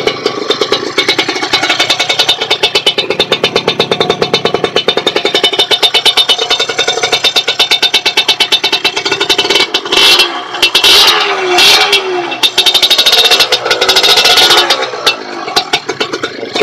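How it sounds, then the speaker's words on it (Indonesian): Bored-up Suzuki Crystal 110cc moped-style motorcycle engine running close by, a loud rapid buzzing putter with a few brief revs and choppy bursts in the latter half. "Kita coba ya bunyikan mesinnya, kita dengar suaranya."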